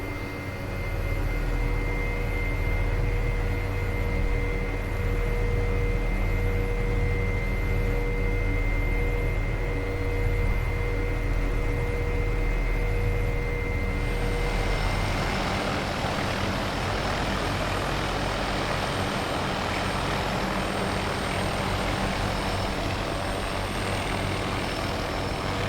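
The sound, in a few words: aircraft taking off in Prepar3D flight simulator game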